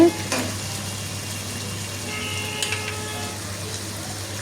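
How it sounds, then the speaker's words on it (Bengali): Fish with mixed vegetables frying in a pan, a steady low sizzle with soft scraping and stirring clatter, close and fairly quiet, with no talking. "নাড়াচাড়া করে একটু কষিয়েই এখন আমি ঝুলের পানি দিয়ে দেব"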